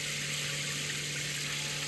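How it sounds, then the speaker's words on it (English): A steady, broadband rush of water from a portable battery-powered heated shower fills the short stretch, with the low hum of its small pump buried underneath, constant and close, with no voices. "You can just hear a little hum of the pump running."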